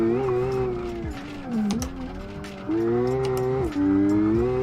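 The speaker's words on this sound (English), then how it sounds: "I think you might be slipping the clutch there a bit." A car's engine revs under hard acceleration on the Nürburgring with a slipping clutch, its tone climbing, dipping and climbing again as it pulls, with loud, close whine throughout.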